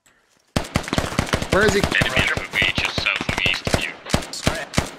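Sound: heavy machine gun firing in SQUAD video game

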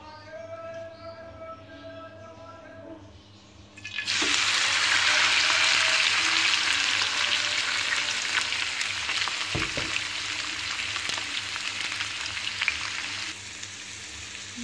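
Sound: chicken frying in oil in a bowl

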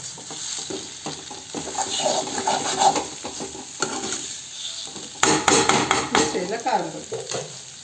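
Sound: scraping egg fry off the bottom of the pan

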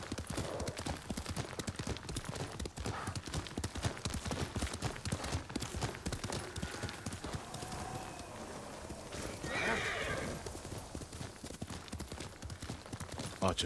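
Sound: horse galloping in a video game

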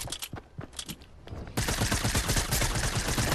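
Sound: gunfire from an enemy in a video game

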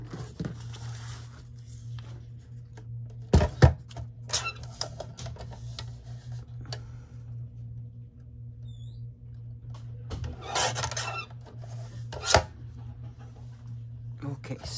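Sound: trimming paper pieces for a collage journal

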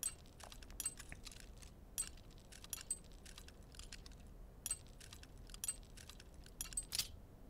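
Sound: lockpick tumbler tink while picking a lock, Oblivion video game

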